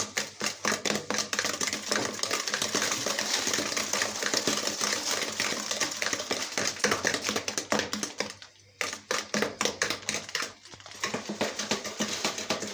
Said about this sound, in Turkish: Aslında bunu mikserle çırpacaksın ama mikserimiz olmadığı için çırpıcıyla yapıyoruz.